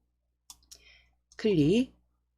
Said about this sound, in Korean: 하이퍼링크 클릭